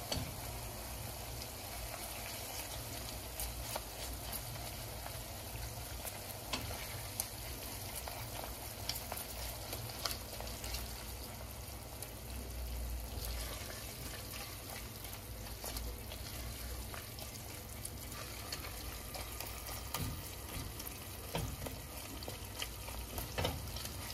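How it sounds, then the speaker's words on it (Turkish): Onions fry in a pan with pepper and tomato paste, giving a faint, steady sizzle and crackle with occasional stirring scrapes. No one speaks. "Şöyle soğanla birlikte 1-2 dakika kavrulsun"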